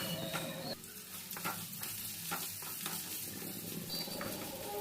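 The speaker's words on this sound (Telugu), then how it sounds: "శనగదాళ్ళు, ఉద్దిదాళ్ళు, ఎండుమిరపకాయలు, కరివేపాకు వేసుకొని అందులోని మనం ఆల్రెడీ కాకరకాయలన్నీ కట్ చేసుకున్నాం కదా, అది కూడా వేసి కొంచెం బాగా ఫ్రై అయ్యే వరకు వేయించుకోవాలి" Sliced bitter gourd fries in oil with chana dal, urad dal, dried red chillies and curry leaves, making a steady close sizzle with stirring scrapes throughout and no voices.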